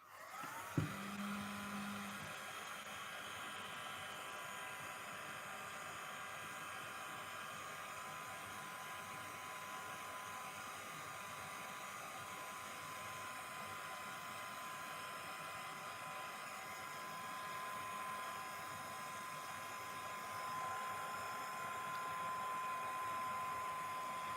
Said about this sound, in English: Now what I need to do when I heat set this, I want to make sure, do not heat from the top because it'll all blow off, but to heat from underneath.